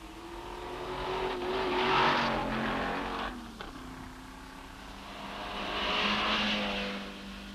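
Ferrari race cars of the 1964 Tour Auto roar past one after another, engine notes rising and falling as each approaches and recedes, moderately distant with a steady background hum.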